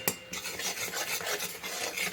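Toast crumbs being stirred into thickened milk kheer in a pot, a soft gritty scraping and rubbing repeated in quick uneven strokes, close and alone.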